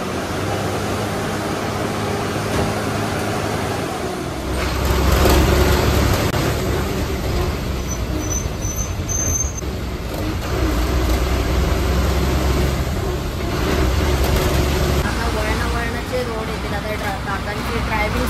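An MSRTC ST state transport bus drives along a road toward Guhagar, its engine and tyre rumble droning steadily from inside the cabin and swelling now and then, while someone talks over it throughout.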